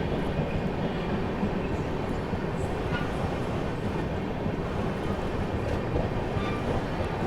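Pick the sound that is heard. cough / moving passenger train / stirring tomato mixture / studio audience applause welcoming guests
moving passenger train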